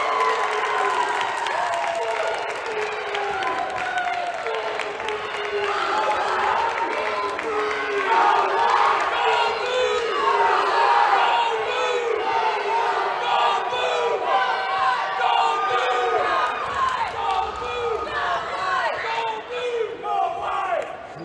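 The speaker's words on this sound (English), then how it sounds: "So we got conflicting go green, go white, go blue, go white cheers here." Large, loud indoor crowd at a Grand Valley State versus Michigan State dodgeball game, rival sections chanting competing go green, go white, go blue cheers that overlap in a continuous dense roar with shouting throughout.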